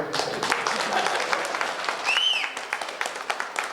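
A crowd at a Kempegowda Jayanti celebration held by a Vokkaliga association in Hebbagodi breaks into dense, sustained applause, many hands clapping together at a moderate distance, with a brief whistle cutting through midway.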